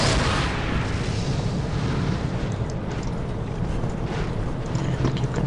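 Grenade explosions in Warhammer 40k Dawn of War, a continuous loud rumbling barrage of booms and blasts with heavy low-end roar and overlapping battle noise.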